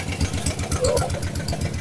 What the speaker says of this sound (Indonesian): knalpotnya juga brong, nggak standarisasi ya, jangan terlalu barbar